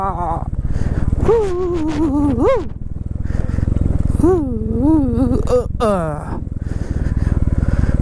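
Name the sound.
motorbike riding on a rough mountain road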